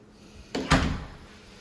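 A coat closet door in a house opens with a soft click and a brief wooden bump, two close knocks a moment apart in an otherwise quiet room.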